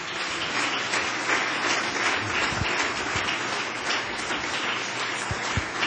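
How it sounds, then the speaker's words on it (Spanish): A church congregation applauds during a worship service, with dense, sustained clapping from many hands throughout and a few louder claps standing out near the front. "Den un aplauso a Jesús."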